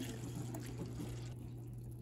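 White vinegar pouring into a 2-cup measuring cup, a steady liquid trickle over a low constant hum, quieting slightly near the end.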